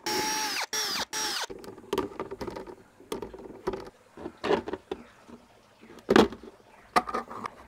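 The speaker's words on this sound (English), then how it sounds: "And now I can just go along and drill the rest of the buckets." A handheld power drill bores holes into plastic Bato buckets in a series of short, loud whirring bursts separated by pauses and small handling noises.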